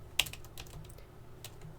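Close computer keyboard typing during network setup work: a few soft key taps in a short sequence, one sharper press near the start, with no voices.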